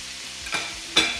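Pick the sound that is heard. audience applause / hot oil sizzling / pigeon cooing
hot oil sizzling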